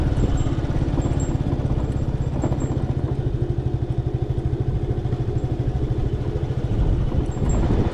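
A motorcycle cruising along a skywalk road in Miaoli, its engine putting out a steady, close, rhythmic mid-pitched drone with wind and clatter, no talking.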